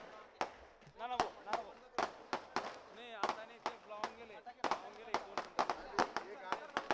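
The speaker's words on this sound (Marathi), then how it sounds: "फटाके फोडणाऱ्यांना नम्र विनंती आहे की फटाके थांबवा" Firecrackers bursting at a Shiv Sena workers' rally in Bhadgaon, Jalgaon: a rapid, irregular string of sharp cracks and pops, loud and close, while someone talks over a loudspeaker throughout.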